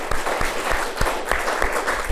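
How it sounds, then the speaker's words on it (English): An audience at a lecture-series talk applauds, dense steady clapping close by that fills the whole stretch without any voices over it. "So let's give them another round of applause."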